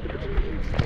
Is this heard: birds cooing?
yes